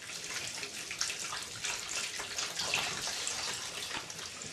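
Spring water pours steadily into a bucket, a continuous close hissing splash with slight bubbling variations, fairly soft and unbroken.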